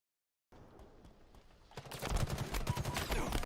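Gunfire in the Halo video game during a Slayer match on the Aquarius map, starting as a quiet spatter of shots and swelling into a loud, dense burst of rapid fire in the final half of the clip.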